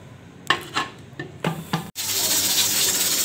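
A pressure cooker being shut, with several short metal clunks of the lid locking and the pot knocking down onto the stove, then a steady loud hiss of the flame once it sits on the burner.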